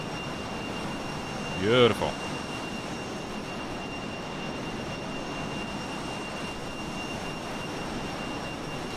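Fokker F28 jet engines in Microsoft Flight Simulator, a steady broad roar and hiss drones throughout at even loudness, with one brief spoken word near the start over the noise.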